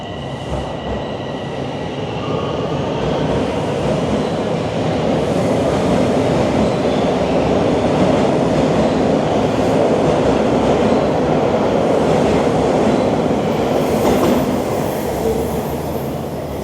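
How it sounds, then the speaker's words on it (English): A train rumbles past at close range in a steady roar of wheels on rails, with faint metallic squeals rising near the end. "I guess I'll have to wait for the next train"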